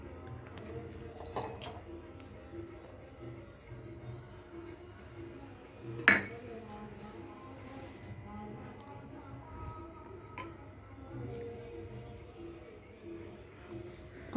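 Metal kadhai set onto a stove, giving one sharp clank midway through a long, quiet stretch of faint utensil clinks. Soft talk runs underneath.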